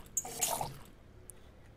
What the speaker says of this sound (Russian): Пойду налью воды, литр.